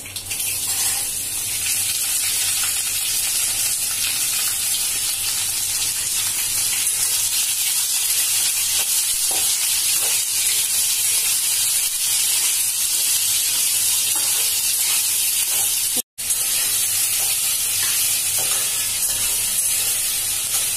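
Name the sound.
raw mango frying in spiced oil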